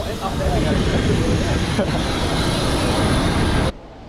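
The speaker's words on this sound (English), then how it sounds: "We then began our taxi to one of the remote stands at Port Macquarie Airport." An airliner taxiing to a remote stand after landing at Port Macquarie Airport, heard from inside the cabin as a loud, steady rumble and engine hum that cuts off abruptly near the end.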